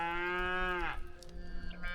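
A Mashona-Angus cross cow or heifer on a farm gives a single drawn-out moo lasting about a second. It is clear but fairly faint, then trails into quiet background noise.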